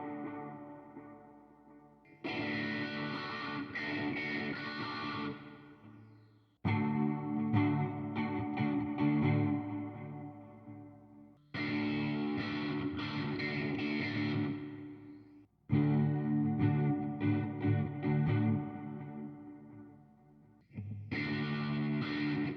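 Schecter C-1 E/A hollow body electric guitar playing loud distorted chord passages in four long bursts separated by brief gaps, with a rock tone and a little reverb, close and without talking.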